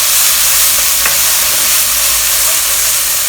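Loud, dense sizzling as spicy chili paste is stir-fried in a pan, a constant bright hiss with faint stirring under it and no pauses.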